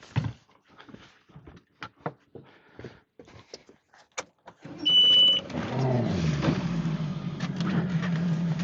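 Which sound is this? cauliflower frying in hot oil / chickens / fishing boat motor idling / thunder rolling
fishing boat motor idling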